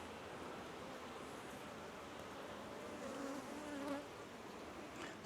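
Honey bees buzzing around an open hive during an inspection, a faint, steady swarm drone with a few nearer individual bees passing.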